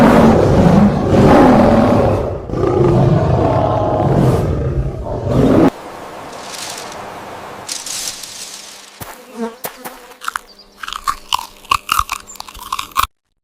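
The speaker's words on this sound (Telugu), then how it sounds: "ఆ గర్జన శబ్దం అడవి అంతా మార్మోగిపోయింది." An animated lion in a children's story gives a few loud, rough, drawn-out roars over the first five seconds. Quieter crunching and chewing sounds follow.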